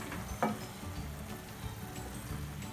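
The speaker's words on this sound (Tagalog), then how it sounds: "Now it's boiling again." Chicken adobo sauce bubbling and sizzling in a pan, a steady soft crackle with a brief louder pop, quiet and close.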